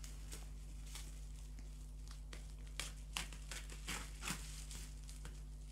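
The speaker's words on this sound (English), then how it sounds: "So if you cut through the..." Bubble wrap being cut and peeled off a boxed mini silicone reborn baby doll, giving quiet scattered crinkles and crackles over a steady low hum, a few sharper bursts near the middle.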